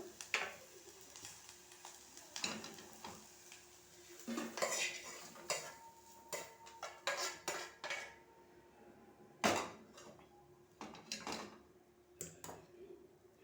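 Food scooped from a pan onto a plate with metal utensils: scattered clinks and scrapes of a spoon against cookware and the plate, irregular and quiet, close by, with no one talking.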